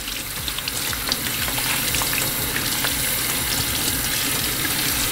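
Tap water runs steadily into a sink while sweet potatoes are washed for a tilapia dish, a continuous close rushing with faint clinks throughout.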